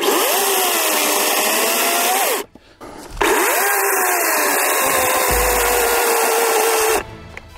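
A DeWALT FLEXVOLT cordless chainsaw cuts through wood in two loud, sustained bursts separated by a short pause, close up with no talking.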